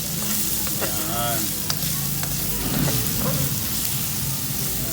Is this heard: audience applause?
no